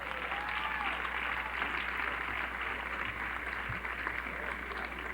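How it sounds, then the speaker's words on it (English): Basketball crowd in a school gym applauding the players' parents during pregame ceremonies: steady, dense clapping that fills the whole clip at an even level, with no pauses. "Once again, another round of applause for our parents"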